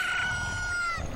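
A rooster crows in the Nintendo 64 game Zelda: Ocarina of Time after a chicken hatches, a single clear, synthesized cock-a-doodle-doo with a bright sustained tone, alone and close.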